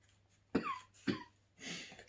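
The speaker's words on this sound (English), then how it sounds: "It's making me cough a bit." Someone coughs after eating a very hot Reaper curry: two sharp, close coughs about half a second apart, then a breathier, drawn-out cough in an otherwise quiet room.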